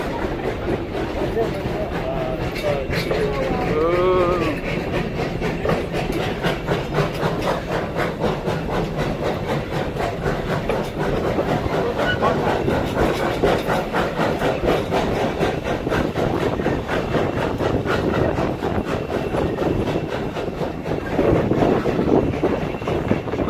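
Steady rumble and rattle of a train rolling along 151-year-old railroad tracks at Virginia City, Nevada, with a narrator talking over it throughout.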